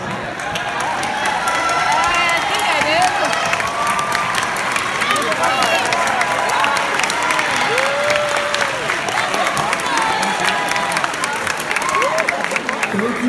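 Sustained applause from a large audience at a high school awards show, dense steady clapping with scattered cheers and crowd murmur, loud and continuous throughout.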